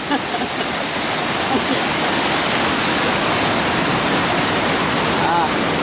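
Fast, forceful water rushes and roars in a loud, steady wash, close by and unbroken from start to finish.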